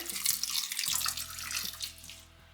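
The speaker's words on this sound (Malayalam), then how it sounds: "ഇതിലേക്ക് കുറച്ച് വെള്ളം ഒഴിച്ചു കൊടുക്കുകയാണ്," Water splashes as it is poured into a pressure cooker holding cut taro, a short, soft gushing that runs for about two seconds and then trails off into quiet.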